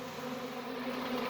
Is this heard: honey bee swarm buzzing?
yes